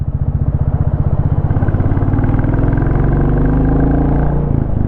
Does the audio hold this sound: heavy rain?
no